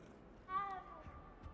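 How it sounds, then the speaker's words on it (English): A cat in a Hogwarts video game gives a single short, faint meow over quiet background noise. "Good kitty cat."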